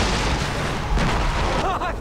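Loud booming explosions in Far Cry 3 rumble over a dense, noisy game soundscape, with a brief voice briefly rising near the end.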